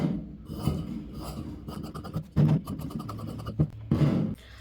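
Blouse fabric being cut with scissors during tailoring, heard as a series of close rasping snips and rubs, some short bursts louder than others, with no speech.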